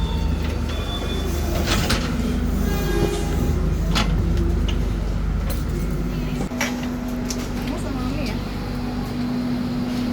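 Inside an Indonesian passenger train hauled by a CC 206 locomotive, running from Bandung to Purwakarta, a steady low rumble and hum of the moving carriages continues throughout, with faint clatter and voices in the background.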